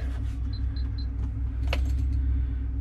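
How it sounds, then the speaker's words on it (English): Keys jingle in a few light, quick clinks inside a Ford Bronco Raptor with a dead battery, heard close over a steady low hum, followed by a single sharper rattle. "got the keys, seeing if this thing will fire up"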